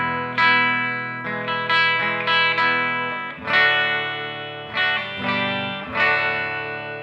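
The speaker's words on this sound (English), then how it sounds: "So here's with the equalizer pedal off, and then here's with it on." Distorted electric guitar chords played through a Fender Twin Reverb amp, first dry and then with a $25 equalizer pedal switched on, ringing strums with sustained decays, close and loud, repeated in a matching phrase.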